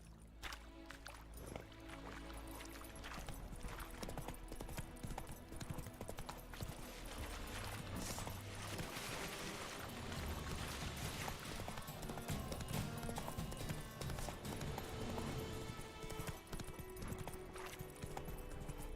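Horse hooves clip-clop in a fast, steady gallop in The Witcher 3: Wild Hunt, continuous and rhythmic beneath game music and ambient sound, with occasional voices.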